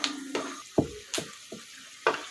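Peanuts crackle and sizzle in a hot pan while being cooked for poha, with sharp irregular pops and stirring clatters, about six distinct bursts over a soft frying hiss.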